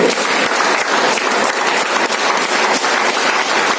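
Loud, dense applause from an audience at a motivational speech event, continuous hand clapping filling the room at a steady level with no talking over it.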